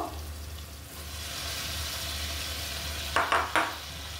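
Potatoes and shrimp stir-fry in a pan with turmeric flowers. A steady, soft sizzle runs throughout, and near the end a few brief scraping clinks of a utensil against the pan cut in. No one talks.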